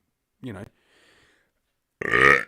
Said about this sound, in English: there's the first burp, and that was a fucking doozy